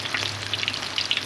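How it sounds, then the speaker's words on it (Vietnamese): Breaded shrimp deep-frying in oil over low heat, a steady close crackle and sizzle of bubbling oil with no talk. "Để mình cho lửa nhỏ xuống, mình chiên với một tí mà cảm thấy đấy như này là nó được rồi."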